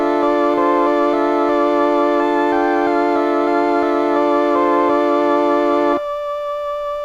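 A 1980s Bontempi BK 32 school keyboard on its third tone setting, a blend of the other two, plays a steady melody over a held droning chord for several seconds before cutting to a single softer tone.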